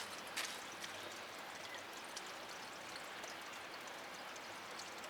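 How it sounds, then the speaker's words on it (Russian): Spring water in Loshitsky Park in Minsk flows and splashes in a steady, faint trickling stream, continuous and even, with no talk. "Вот наш родничок, смотрите."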